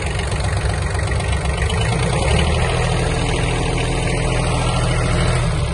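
A Kubota B1-17 Japanese mini tractor engine runs at raised throttle, a loud, steady low diesel drone heard close by with no talk.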